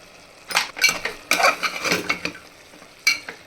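A spoon scrapes and clinks through dry mutton masala spice powders in a pan, with pepper and cumin powders mixed in, in several sharp, uneven bursts of scraping with quieter pauses between, close and alone.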